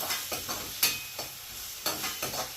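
Ingredients sautéing in a pan, a steady soft sizzle broken by repeated scraping stir strokes, fairly close and quiet, with no talking.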